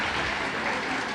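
Applause from an audience at a provincial government launch event in Pili, Camarines Sur, a brief, dense wash of clapping at moderate distance, fairly faint.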